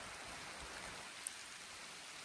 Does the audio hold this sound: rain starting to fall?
yes